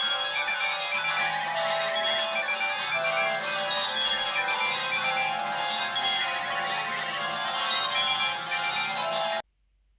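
A ringtone plays from a Chinese copy of the Galaxy S3 phone from around 2012. The bright, electronic melody repeats steadily for about nine seconds, close and loud, then cuts off abruptly.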